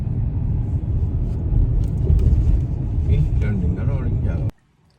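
A car drives steadily along a road in a continuous close rumble of engine and road noise, and people talk inside over the drone before it cuts off abruptly near the end.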